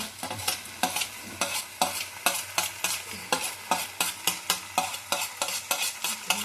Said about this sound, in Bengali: পুরো মিশিয়ে নিলাম চিকেনের মধ্যে মশলাটা।